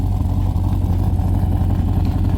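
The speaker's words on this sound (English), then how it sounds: "Aftermarket exhaust too, which sounds incredible." A loud, throaty Corvette aftermarket exhaust rumbles steadily up close as the engine revs, a deep continuous engine roar with no talking.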